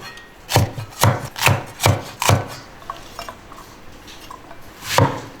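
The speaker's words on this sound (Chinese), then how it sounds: "我们把青椒切块哈" A knife chops a green bell pepper into chunks on a board: five crisp, evenly spaced cuts, a short pause, then one more cut, close and clear, with no talk.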